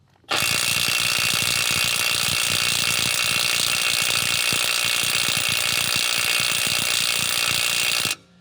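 A Snap-on CT9010 18V cordless impact wrench hammers in reverse on a stuck lug nut, a loud, continuous rapid rattling blast that starts abruptly and runs for about eight seconds before cutting off, with no talking.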